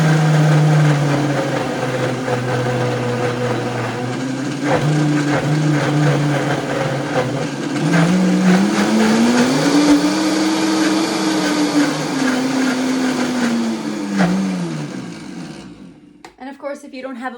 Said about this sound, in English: So I start on a little slower speed first, and then I'll amp it up a little bit as it starts to blend.